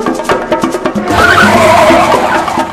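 Car tires skidding hard on pavement: a series of rough scrapes builds into a loud, sustained squealing skid close by, with engine noise underneath.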